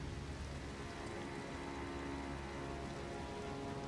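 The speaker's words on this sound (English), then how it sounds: "now it's raining." Rain in the video game Elden Ring, a steady, soft hiss of drops pattering on surfaces, even and continuous with no voices over it.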